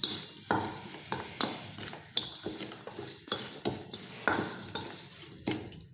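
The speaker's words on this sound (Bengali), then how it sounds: "এক মুটকি মতো ভিনিগার দিয়ে দিলাম, দিয়ে এটাকে ভালো করে মিশিয়ে নিতে হবে" Spoon stirring vinegar through chilli pickle in a jar or bowl, giving a series of about a dozen near, distinct scraping clinks at an uneven rhythm, with no talk.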